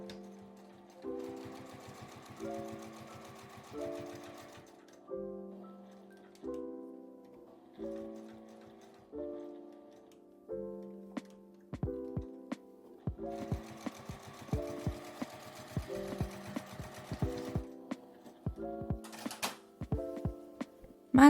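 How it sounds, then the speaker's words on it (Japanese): A sewing machine stitches both ends of a small fabric drawstring pouch made from scraps, running in steady repeated bursts with a rhythmic needle chatter and brief pauses between seams, close and alone. "両端を縫います。"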